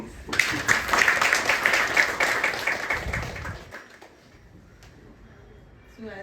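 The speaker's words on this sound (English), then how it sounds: "so big applause for my staff, please." An audience applauds staff at a farewell ceremony for a judicial member, brisk, close clapping lasting about three and a half seconds before dying away into quiet room tone with a faint knock.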